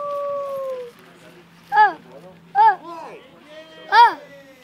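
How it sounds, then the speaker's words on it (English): A dog lets out a few drawn-out, wavering howls in separate bursts, fairly close, broken by quiet pauses, with a steady tone under the first second. "She's not afraid of the dog."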